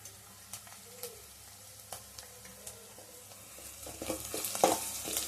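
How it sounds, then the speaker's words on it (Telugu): Turmeric goes into a frying pan for a country chicken curry. A quiet, steady sizzle runs under regular light taps and scrapes of stirring, and both grow busier and louder toward the end. "ఇప్పుడు పసుపు వేస్తున్నా."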